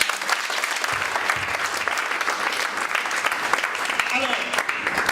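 A church congregation breaks into sustained applause, a dense, lively clapping filling the space, with voices cheering underneath.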